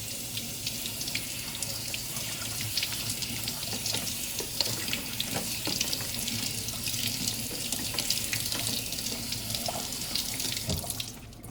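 Tap water runs steadily into a kitchen sink while blueberries are rinsed under it, a continuous close splashing stream with small drips and clinks, no talking.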